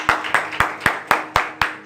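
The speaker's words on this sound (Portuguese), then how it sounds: "Você pode dar uma salva de palmas." A few hands clapping in a steady, evenly spaced rhythm, about seven sharp claps in under two seconds, close and fairly loud against a quiet background during a Portuguese-language sermon.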